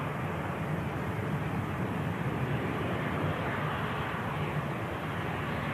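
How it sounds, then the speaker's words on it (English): An EasyJet Airbus A320 with sharklets just after touchdown on runway 23 right at Manchester Airport on a cold winter morning, giving a constant broad, loud engine roar with no pause. "EasyJet A320 with the sharklets just touched down"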